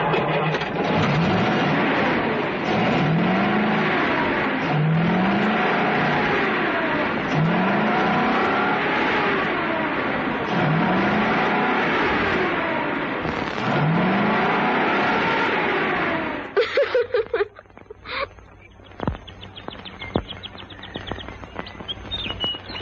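An old truck engine from the late 1940s runs loud and steady, revving with repeated rising-and-falling sweeps for about sixteen seconds before cutting off, leaving scattered clicks and a faint birdlike chirp.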